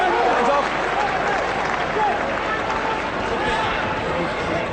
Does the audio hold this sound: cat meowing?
no